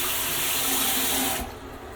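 Hotel bathroom sink faucet running hard at high pressure, a bright steady hiss of rushing water that cuts off abruptly near the end, leaving a faint trickle.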